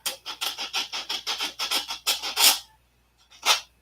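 Hand sanding across the tops of a wooden workpiece, a steady run of about a dozen rhythmic rasping strokes that speeds slightly, then a pause and one last stroke, close and clear.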